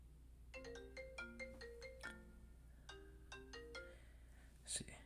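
A phone ringtone plays a quick melodic pattern of bright tones, two short repeated bursts with a pause between them, fairly faint against a low steady hum, with no talking over it.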